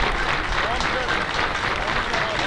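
A baseball crowd cheers and claps steadily through a tense two-out, two-strike moment, a broad wash of applause with an announcer talking over it.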